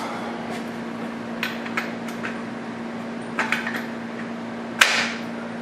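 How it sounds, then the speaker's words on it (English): A part is smacked into place on a Grizzly G0704 CNC mill while fitting serpentine belt pulleys: a handful of scattered metallic knocks and taps over a steady machine hum, ending in one sharper, louder strike. "Smack it in place."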